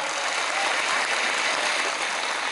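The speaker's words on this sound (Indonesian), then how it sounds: "Tepuk tangan untuk kompak." A crowd at an Indonesian religious talk applauds, a dense, loud and continuous roar of many hands clapping with no voices over it.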